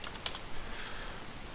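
A single sharp key click on a computer keyboard while playing Transport Fever, followed by faint, scattered soft ticks and quiet background noise.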